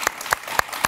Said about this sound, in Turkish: Ben alkışlamak istiyorum.